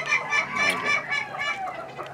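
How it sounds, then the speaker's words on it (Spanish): A rooster at a Peruvian fighting-cock breeding farm gives a run of close, loud clucking calls in quick succession, heard alone without talk. "Sí, es un gallo bastante bonito."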